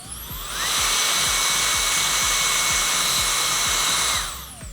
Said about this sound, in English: Then I'm gonna go in with my blow dryer,